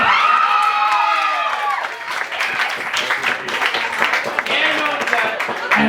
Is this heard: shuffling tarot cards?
no